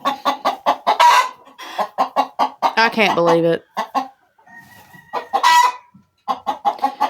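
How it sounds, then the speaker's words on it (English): Repeated clucks from a hen getting ready to lay, close and fairly loud, coming in short rhythmic bursts, broken up by a longer drawn-out squawk and some brief human speech. "That's one of my hens. She's probably getting ready to lay."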